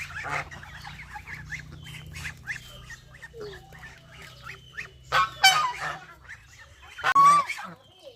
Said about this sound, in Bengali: রাজহাঁস সুন্দর করে তাদের খাবারগুলো খাচ্ছে